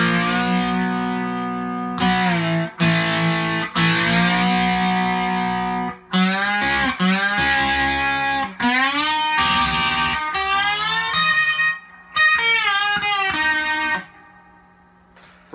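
Electric slide guitar played with heavy reverb and some distortion, sustained gliding notes and chords in phrases separated by short breaks, each ringing out with a long reverberant tail.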